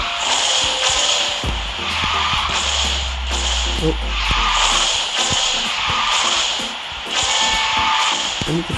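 Arcade-style car drifting in the mobile racing game QQ Speed Mobile, a steady loud engine and tire-squeal wash with repeated swelling pulses, layered with game music and effects.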